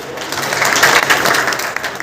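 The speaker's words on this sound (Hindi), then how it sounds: "एक बार पुनः उनके लिए जोरदार तालियां।" An audience at a memorial meeting claps in a loud, dense burst of applause that holds steady for about two seconds, close and full.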